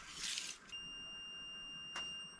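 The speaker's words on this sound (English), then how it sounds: "lasers should beep solid when I'm at the top of the post" A laser level at a cabin sill-beam repair site gives a steady, solid electronic tone that holds clear and unbroken after a short burst of hiss, sounding fairly close.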